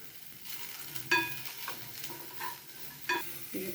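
Raw mango and onion frying in a pan, a soft steady sizzle with a few louder scrapes as the pieces are stirred, fairly quiet and close with no talking.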